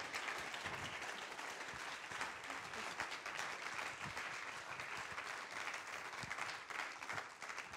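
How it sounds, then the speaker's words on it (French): Sustained applause from a live audience welcoming three chefs onto a stage, including the three-star chef of Mirazur in Menton; dense, fairly quiet and distant clapping that stays even for nearly eight seconds without speech. "Alors je vous prie d'applaudir bien fort Nadia Samut, Olivier Relinger et Mauro Colagreco."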